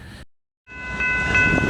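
A passenger train at the Portland station with a baggage car on the rear, heard close as a loud, steady rumble with tonal whistle-like ringing, following a brief silent gap.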